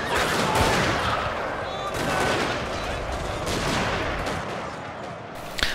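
Musket lines volley in the Fall of the Samurai strategy game, a dense, continuous crackle of overlapping gunfire that stays loud and steady throughout, with a sharper burst at the very end.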